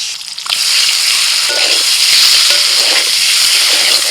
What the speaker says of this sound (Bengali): কড়াইতে অল্প সরষের তেল দিয়ে ওর মধ্যে একটু লবণ আর হলুদ দিয়ে দিয়েছি। এবার ডিমটা ভেজে নেব।